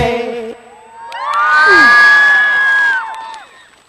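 A live Khmer concert audience cheers loudly with high whoops and shouts that swell and hold for a couple of seconds before easing off.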